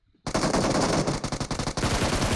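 Sustained rapid automatic spray from a SCAR-L assault rifle in PUBG Mobile, a loud continuous burst of dense gunfire that starts abruptly and hammers on for about two seconds with brief dips in the rhythm.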